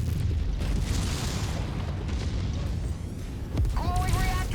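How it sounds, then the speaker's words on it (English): A missile explodes in the MechWarrior 5 video game with a loud, sustained booming rumble. Mech combat noise runs underneath, and a synthetic voice speaks near the end. "Incoming missile."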